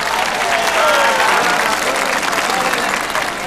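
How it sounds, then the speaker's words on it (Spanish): A large audience applauds a performer as she arrives on stage, a dense sustained wash of clapping and crowd noise that stays loud throughout. "Y aquí llega entre aplausos María del Pilar."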